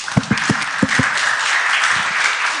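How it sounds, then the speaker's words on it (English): Audience applause at an investment event on capital for growth in Moldova, beginning with a few distinct claps and swelling into steady, moderately loud clapping from a roomful of people. "let's give the applause first"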